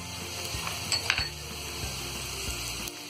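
Diced potatoes hit hot oil in a pan, producing a steady quiet sizzle with a few light metallic clinks and scrapes of the spoon near the start.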